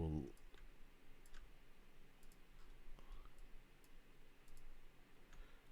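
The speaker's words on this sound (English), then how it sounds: "Something's going on weird with my keyboard." A computer keyboard clicking while someone works on a board game design, sparse light taps and clicks spread irregularly over a quiet room, with a brief thump at the start.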